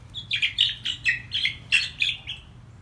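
Baby chicks chirping in a quick series of about nine high, bright peeps, fairly close and moderately soft, with no talk.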